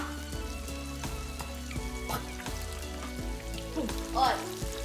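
Shrimp tempura frying in hot oil, a dense steady sizzle and crackle with scattered sharp pops and clinks, close by and fairly quiet.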